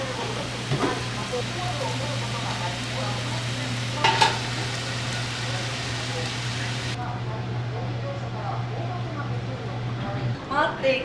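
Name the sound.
vegetables being stir-fried in a pan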